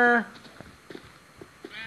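A sheep in Minecraft Pocket Edition gives a short, loud bleat at the very start, followed by quiet scattered game clicks and footsteps. Another fainter bleat comes right at the end.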